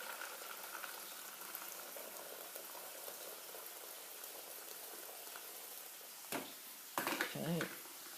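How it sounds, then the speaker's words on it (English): Salted water bubbles at a rolling boil in a pot, a soft, continuous seething hiss, faint and close, with a couple of brief clatters near the end. "As you can hear, the water's boiled."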